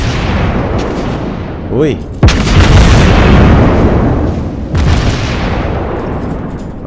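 Naval artillery in World of Warships Blitz: a heavy booming salvo with long rolling roar, then a second deep blast, loud and close, with a brief voice exclamation.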